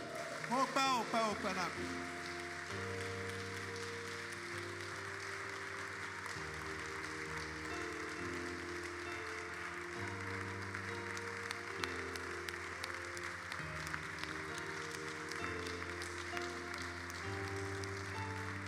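A church congregation breaks into sustained applause acclaiming the Lord, a continuous wash of clapping heard over steady organ or keyboard chords, with a voice speaking briefly at the start.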